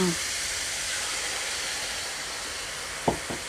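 Egg poured into a hot pan with pork, giving a steady broad sizzle and hiss that holds throughout, with a couple of short clattering knocks near the end.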